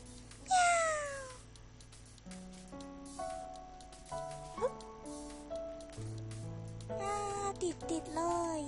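Cat meows from the game Catlateral Damage ring out in a few rising and falling cries over a simple melodic tune of stepped notes.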